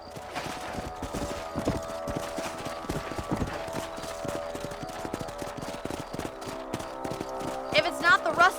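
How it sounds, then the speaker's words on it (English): Horses clip-clop at a steady trot in the Red Dead Redemption video game, hoofbeats rhythmic and close throughout, with game ambience and a brief whinny or shout near the end. "Let's get back on the horses and see what else is going on."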